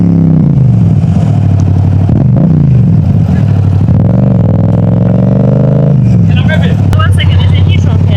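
A Yamaha MT-07 motorcycle with an aftermarket exhaust idles in neutral close by and loud, with a deep throbbing drone and pitch rising and falling as it is blipped, while people talk over the engine.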